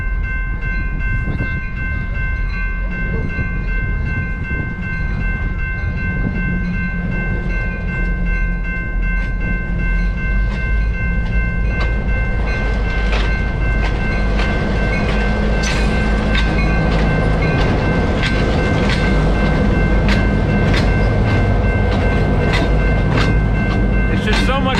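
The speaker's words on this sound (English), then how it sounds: "Here comes the train." A train rolls past an outdoor flea market in Manheim Township, Lancaster County, Pennsylvania. Its rumble and clatter stay loud and close throughout, with sustained horn tones and faint voices underneath.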